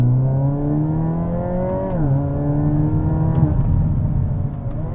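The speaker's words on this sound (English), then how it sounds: "I'm gonna go ahead and press the N-Grin shift button. That's gonna give me additional 10 horses and floor it." A Hyundai Elantra N with the N Grin Shift boost engaged accelerates at full throttle, its engine note climbing steadily, briefly dropping at a quick gear change, then rising again, loud and close inside the cabin.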